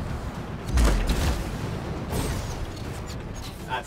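Explosions of turrets being destroyed in the Anthem video game, a couple of deep booming blasts with rumbling low end, fairly close and loud, amid ongoing combat noise.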